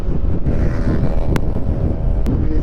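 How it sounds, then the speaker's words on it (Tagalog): Strong wind roars loudly against the microphone in steady, rumbling gusts while riding a Honda ADV 150 scooter, with a couple of brief sharp clicks. "Lakas ang hangin."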